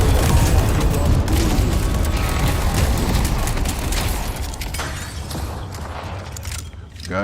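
Explosions and a rapid barrage of gunfire hit a walker under attack in the video game Deadlock, with dense, loud crackling booms piling up continuously before easing slightly toward the end.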